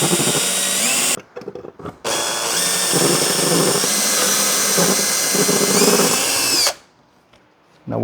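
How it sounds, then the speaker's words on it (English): A power drill whines steadily as it bores into wood, with a brief pause and restart partway through before cutting off near the end. "you just go slow to drill"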